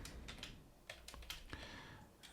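Quick bursts of typing on a computer keyboard, a handful of soft key clicks in irregular clusters, faint and close with no talk.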